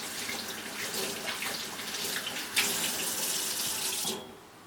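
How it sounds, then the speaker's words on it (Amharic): Cold tap water running steadily into a bowl to wash rice, a close continuous splashing stream that cuts off near the end. "በቀዝቃዛ ውሃ አጥበዋለሁ።"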